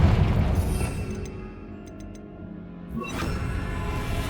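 A Confringo blasting spell goes off in Hogwarts Legacy with a loud, rumbling explosion that fades over about a second into a low, quiet tail, followed by a fresh burst of noise near the end.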